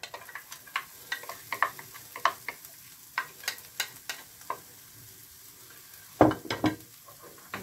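Onion frying in a hot frying pan, a soft steady sizzle broken by scattered clicks and taps, with a louder clatter of stirring near the end; no talk.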